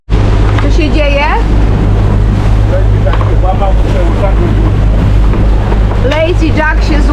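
Strong wind roars steadily over a sailboat at sea on the Atlantic as a squall approaches, with constant low rumble and gusting noise buffeting the microphone; people talk intermittently underneath.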